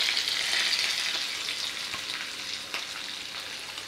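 Lentils fry in hot oil with curry leaves, green chillies and grated ginger for an idli tempering, making a loud continuous crackling sizzle with faint stirring, close up.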